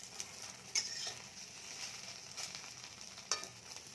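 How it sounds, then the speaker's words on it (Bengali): Eggs fry in a pan with a soft continuous sizzle, broken by a couple of sharper crackles and pops over a few seconds, with no voices. "ভিতরটা ভালো করে ভেজে নেবো।"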